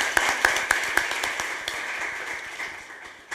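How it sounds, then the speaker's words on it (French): Audience applause fills a chamber of commerce board election meeting in Djibouti: steady, dense clapping from a crowd at moderate level, with a few sharper individual claps standing out early on. "et privés que je voudrais aussi qu'on leur applaudisse."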